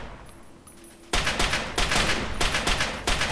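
Rapid gunfire from the video game Fallout 3 erupts after a quiet stretch, a loud sustained burst of repeated shots with brief dips, heard alone without talk.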